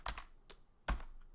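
A few keystrokes on a computer keyboard entering a short command at a Linux command line: three separate clicks, the last one louder, close up with no voices.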